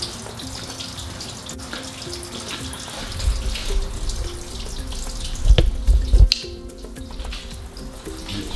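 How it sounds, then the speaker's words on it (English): Water drains out of a Maytag Bravo top-load washer during a belt and clutch repair, a steady rushing flow that swells into louder gurgling bursts midway. "if there's some water in it, which it sounds like there is some water in it, it'll just drain out"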